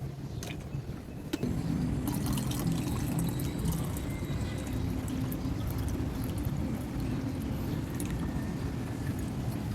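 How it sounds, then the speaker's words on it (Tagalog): Water poured into the tank of a hot and cold water dispenser, a steady, close pouring and gurgling stream that starts after a brief pause and continues evenly. "nilagyan na natin ng tubig"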